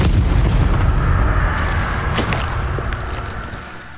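A Bombarda spell blast in Hogwarts Legacy, one deep booming explosion that starts loud and rolls off into a long, fading rumble over a few seconds.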